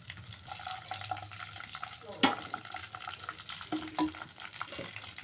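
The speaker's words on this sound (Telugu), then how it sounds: "ఒకసారి గుడ్లు ఇలా కలిపేసుకోవాలి." Eggs stirred in a pan of eggplant curry, with a continuous sizzle and scraping stir strokes and a sharp utensil knock partway through.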